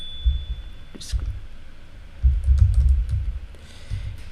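A prompt is typed on a computer keyboard, a quick run of light clicking keystrokes close to the microphone. Low thumping and murmuring sit underneath, with soft speech-like sounds woven in.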